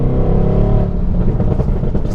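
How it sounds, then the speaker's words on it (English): A tuned Mercedes-AMG GT R with downpipes and a Stage 1 tune revs hard and close, its loud exhaust drone breaking into rougher, crackling bursts as it shifts up. "the upshifts, they give you a much more aggressive crack now"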